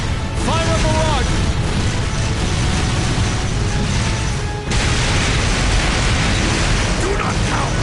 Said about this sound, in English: Left flank, fire barrage!